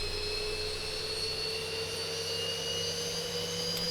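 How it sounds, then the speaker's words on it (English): The number 2 jet engine of an airliner in the X-Plane 11 flight simulator runs as a steady, loud whining drone with a constant high tone, heard alone. "We'll start our number 2 engine first."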